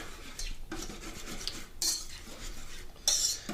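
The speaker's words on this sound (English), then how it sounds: "Then, we get our friend the whisk. Break up those egg yolks here." Egg yolks are whisked in a bowl with a metal whisk for pumpkin chocolate chip muffins, giving rapid clinking and scraping strokes against the bowl, close and uneven in bursts, no voices.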